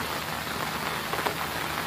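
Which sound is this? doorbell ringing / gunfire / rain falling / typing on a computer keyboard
rain falling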